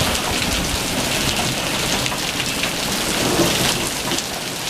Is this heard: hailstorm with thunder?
yes